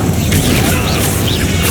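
A Bombarda blasting spell explodes in Hogwarts Legacy, a loud, dense boom with crackling debris that fills the whole moment without pause.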